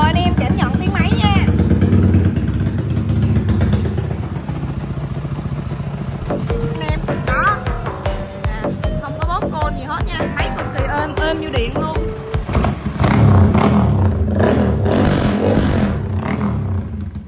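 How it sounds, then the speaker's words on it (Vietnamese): A modified touring motorcycle engine revs up and down close by, sputtering and popping between throttle blips, with rattling and clatter mixed in. "Rồi mời anh em cảm nhận tiếng máy nha"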